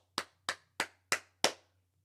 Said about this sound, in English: got tired of hearing clapping on the sideline